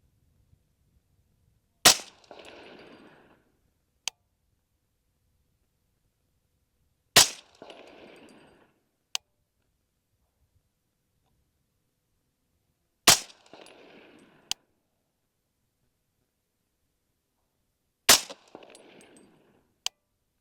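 Four loud, sharp rifle shots from an LWRC M6A3 DMR firing Dignity ammunition, spaced about five seconds apart, each with a brief rolling echo and a faint metallic clink a couple of seconds later.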